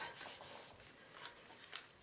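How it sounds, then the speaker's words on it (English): Paper is rubbed down by hand with soft, faint, rhythmic strokes, pressing adhesive pages into a photo folio so they stick. "Rub it down so the adhesive sticks."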